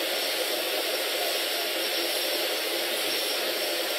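An airplane engine in a video game drones through a takeoff run as a constant, loud, broadband jet-like roar that holds steady from start to finish, with no speech.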